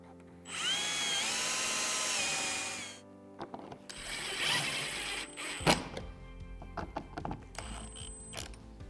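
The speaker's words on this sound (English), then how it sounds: "Then I'll go ahead and drill my other hole." Power drill boring a mounting hole for a Minn Kota Ulterra trolling motor install on a boat, a loud whine of about two and a half seconds, followed by clattering handling noises and short mechanical bursts.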